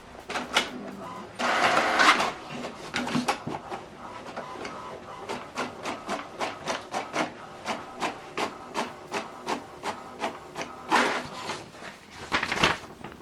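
An HP Deskjet inkjet printer prints a test page: whirring feed sounds, then a long run of rapid, regular mechanical clicks as the print head shuttles back and forth.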